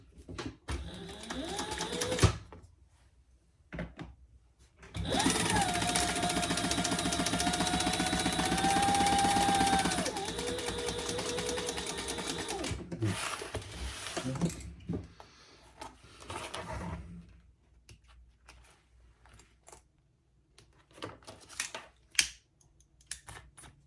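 Sewing machine top stitching along a wallet's zipper pocket, a steady motorised run of about five seconds with short bursts and handling noises before and after, close and fairly quiet.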